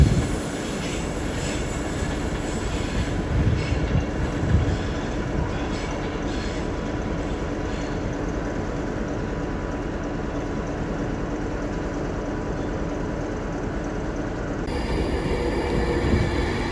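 Class 390 unit 390 002, a West Coast service for Manchester Piccadilly, sits or moves at a London terminus, giving a continuous rumbling rail noise with light squeal and a brief rattle.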